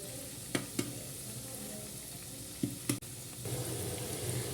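Chicken pakoda frying in hot oil, a steady close sizzle with a few soft clicks and scrapes from a utensil, growing slightly louder near the end, with no talk.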